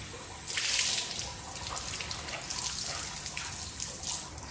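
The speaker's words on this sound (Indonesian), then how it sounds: "Akan bilas final flush dari air yang mengalir" A Q Mask fabric face mask is rinsed under a running tap, with splashing water over a steady flow and irregular bursts as the mask is turned, close and fairly loud.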